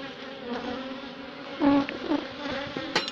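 Honey bees inside an opened hive building wax frames, with propolis on top, make a close, steady buzzing hum that swells and fades as individual bees pass near, with brief louder drones.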